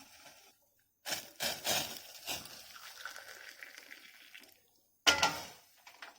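Hot water poured into a South Indian filter coffee maker for Kumbakonam degree coffee, splashing and trickling in a few short bursts, then a steady pour, a pause and a final louder splash, close by.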